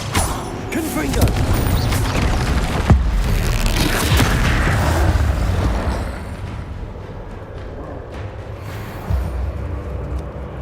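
Confringo fire spell blasts in Hogwarts Legacy, a dense, continuous run of booming bursts and crackling impacts over several seconds, fading to a quieter rumble with a few later pops, while a voice calls out.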